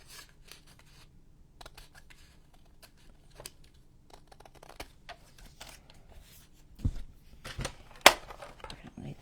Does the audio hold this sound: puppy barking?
no